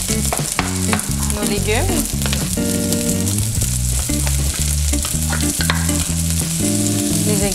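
Rice stir-fried in a pan for fried rice with shrimp and Chinese sausage: a constant close sizzle and scraping stir under background music, with a brief spoken phrase.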